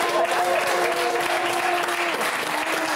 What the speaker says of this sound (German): Es gab ein bisschen Beifall, es gab auch viel Buh